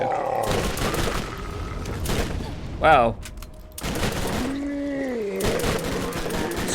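Explosion from an explosive weapon in the video game Borderlands, a short loud burst with gunfire-like crackle over game sounds, with a brief exclamation from a voice.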